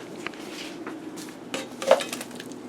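Potatoes dropped into a pan holding melted fat for browning, giving a few clattering knocks and a brief scraping clatter, fairly close, with no voices.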